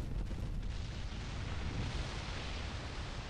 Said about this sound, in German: Das waren meine Schüsse, die daneben gingen, oder?